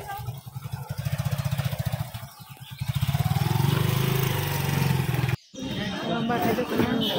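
Motorbike riding along, its engine chugging in a rhythmic putter that rises into a steady louder drone, with a brief cut partway through and faint voices in the background.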